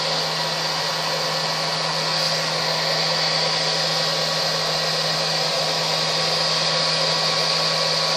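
A blow dryer set on low heat, lying on a grooming table, runs with a continuous whirring blast and a steady hum while drying a wirehair dachshund's legs, close and alone.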